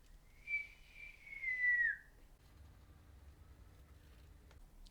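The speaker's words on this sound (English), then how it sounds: "That's just me whistling." A single person whistles a rising-then-sliding tone for under two seconds, fairly faint, over quiet room noise.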